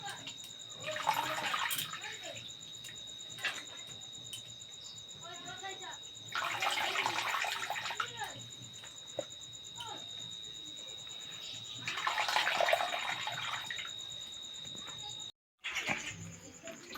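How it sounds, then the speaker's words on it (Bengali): Sliced potatoes rinsed with water in a colander, heard as three separate bursts of splashing, running water close by, with quieter pauses and a faint background hum between them. "এখন 2 থেকে 3 বার এই আলুগুলোকে আমি ধুয়ে নেব, যতক্ষণ না পরিষ্কার জল বেরোচ্ছে।"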